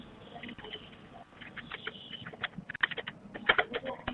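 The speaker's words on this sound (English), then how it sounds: "My dear Shion, I know I can get your keyboard sound." Typing on a computer keyboard: a quick, irregular run of light clicks and taps heard close, alone with no voices.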